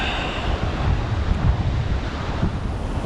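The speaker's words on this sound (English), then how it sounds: "it's a little bit breezy" Wind blows by a riverbank on the upper Avon, a steady rushing roar with gusty buffeting against the microphone.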